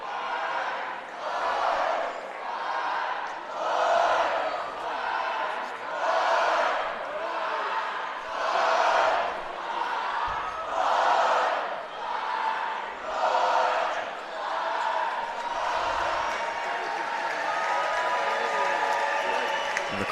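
A crowd in the stands at a Swarthmore versus Gettysburg men's college basketball game cheers during a break in play, loud rhythmic chanting surges rising and falling every second or so, then a steadier roar.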